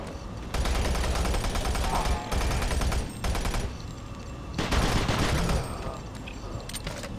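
Gunfire from Doom 3 (BFG Edition), a player shooting at a dead body, comes as loud sustained bursts of automatic fire that stop and start over several seconds.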